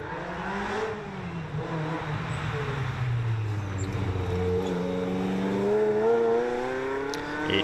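A Ferrari 355 Challenge race car on a town rally stage at Strathalbyn roars away from the line, its loud engine note climbing steadily through the revs in one sustained, close pull.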